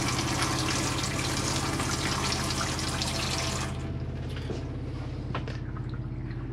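Hot water runs from the mixer tap into a hand basin in an Auto Trail Imala 720 motorhome, a close, steady gushing that shifts to a lighter trickle with drips, with no voices.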